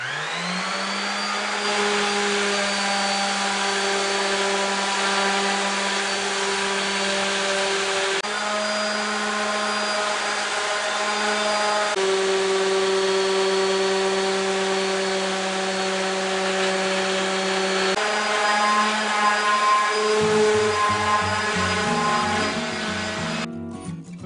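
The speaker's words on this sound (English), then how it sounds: "Then I'll also sand the edges of the plywood here." Power sander working along the edges of a plywood panel for a remote-controlled trap door, a steady loud whine with strong harmonics running continuously, shifting pitch slightly as pressure changes, then winding down at the end.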